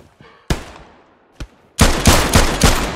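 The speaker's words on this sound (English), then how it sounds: "it's an MG" Machine gun fire in the World War II shooter Hell Let Loose: a few isolated loud shots, then a rapid, sustained burst of heavy automatic fire close by.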